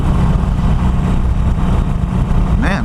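Harley-Davidson Iron 883 motorcycle with a modified stock exhaust running close by, a steady loud low engine note throughout, with a brief higher sweep near the end.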